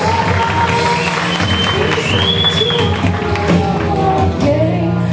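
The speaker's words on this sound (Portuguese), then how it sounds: "Vamos dar mais uma salva de palmas para esses corajosos" Church congregation applauding and cheering brave volunteers during an evening worship service, a steady dense crowd noise of clapping and voices that stays loud and unbroken throughout.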